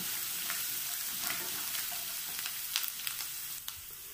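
Finely chopped ginger and garlic fry in a pan for a lemon pickle, a continuous even sizzle with scattered small clicks and scrapes of stirring, moderately quiet and without voices.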